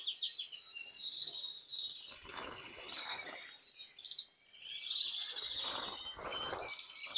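Agate canaries, fifteen of them sorted into cages, chirp and twitter continuously in high, bright bursts, several birds calling at once close by with no talking.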